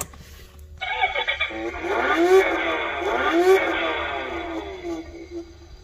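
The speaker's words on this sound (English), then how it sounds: "we'll show you how to turn the car on" A TOYMAX Mercedes 300S kids' electric ride-on car powers up after a button press, playing a loud electronic engine-start and revving effect with rising, sweeping tones that carry on for several seconds.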